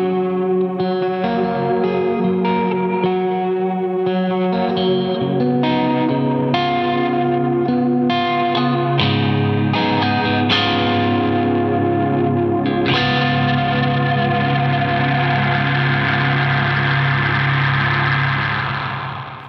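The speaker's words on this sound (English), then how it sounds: "Then I used the ancient echoes to give that heavier guitar some room to just exist in." Heavy distorted electric guitar chords ring out through a spacious Ancient Echoes reverb, starting as choppy strummed hits and opening into a sustained, washing wall of sound that stays loud throughout.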